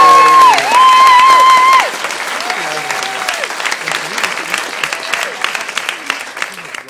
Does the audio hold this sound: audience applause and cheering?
yes